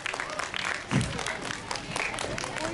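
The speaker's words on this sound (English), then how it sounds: "A huge round of applause." An audience gives a sustained round of applause for a class 8 student about to perform a Lady Macbeth monologue at a school literary festival. The clapping is continuous, with a voice speaking over it.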